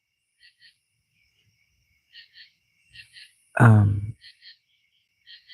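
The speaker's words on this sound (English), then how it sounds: "The crickets." Crickets chirp in short paired bursts repeating through the stretch, soft and fairly distant, with one loud burst of speech cutting in partway.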